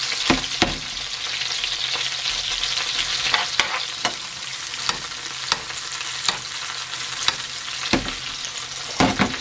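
A tomahawk steak frying with butter in a frying pan gives a loud, close, steady sizzle, broken by frequent sharp spatters and pops throughout.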